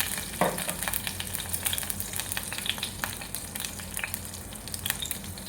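Cumin seeds sizzle and crackle in hot oil as a tempering for moong dal vada kadhi, a steady dense frying hiss with scattered sharp pops and a soft stir, close and continuous with no talk.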